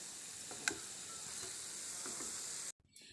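Steady, crackling sizzle of jackfruit pieces, prepared as vegetarian fish, frying in hot oil, close and continuous, with a faint clink partway through before it cuts off abruptly near the end.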